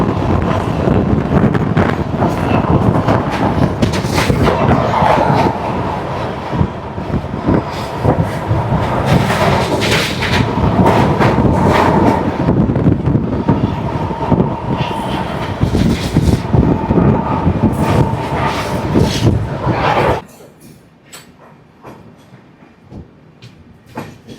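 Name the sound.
Netaji Express train crossing Yamuna river bridge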